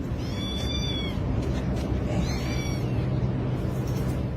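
A kitten meows in short, repeated high cries, two clear bursts in the first seconds, over a steady low rumble of background noise.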